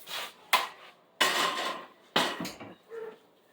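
A hot baking dish knocks and scrapes against metal oven racks and other pans as they are swapped in the oven, several separate clattering bumps and slides up close, with no one speaking.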